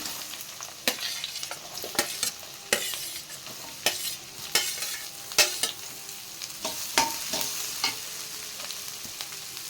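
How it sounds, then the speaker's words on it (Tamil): Chopped onions frying in butter with a little oil while being stirred, a steady close sizzle broken by frequent sharp scrapes and clatters of a spatula against the pan, with no talking. "இதை நல்லா கோல்டன் ப்ரௌன் ஆகுற வரைக்கும் வதக்கிக்கலாம்."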